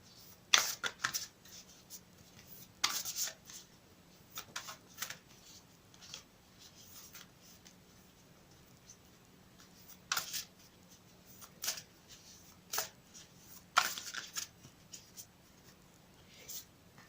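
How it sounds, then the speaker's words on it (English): Quiet oracle card shuffling in short riffling bursts, spread across the clip with pauses between, faint and close. "I'll shuffle them for you again on camera"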